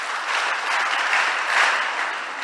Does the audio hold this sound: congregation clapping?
yes